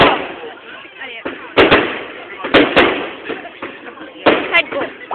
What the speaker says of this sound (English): For one firework, it was pretty long.